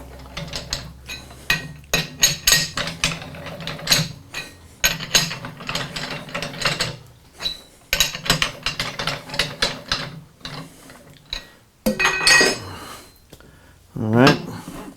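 Metal lathe chuck jaws being opened to take a 4-inch workpiece, heard as repeated ratcheting, clicking and clanking of the chuck key and gears in irregular bursts, close and moderately loud, with brief metallic scrapes near the end.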